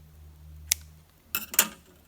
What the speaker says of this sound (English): So what we're going to do is cut our yarn